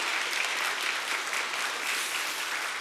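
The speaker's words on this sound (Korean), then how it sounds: "우리 두 분에게 한번 축복의 박수 해주시기 바랍니다" A church congregation claps steadily after a baptism during a Sunday service, dense sustained applause filling the room throughout without a break.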